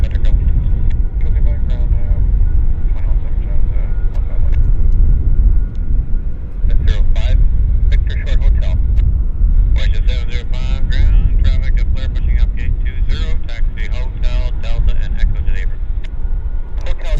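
Loud, steady low roar of an airliner landing at Vancouver airport, rumbling throughout with close voices talking over it.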